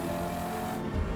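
Chevrolet Corvette ZR1 engine and exhaust roar loudly and continuously, a dense rumbling drone with a brief surge near the end.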